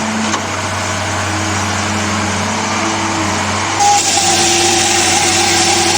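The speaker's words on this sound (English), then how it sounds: "See, that saw goes right down and saws that up, comes right back up." Farm sawmill saw cutting timber logs, a steady loud mechanical drone with a continuous engine hum, shifting to a brighter, harsher cutting pitch partway through as the blade works down through the log.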